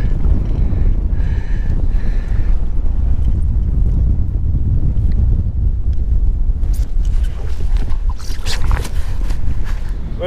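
Strong wind buffets the microphone in loud, continuous roaring gusts while kayaking on open water ahead of Tropical Storm Beta, with light water splashing and some rustling near the end.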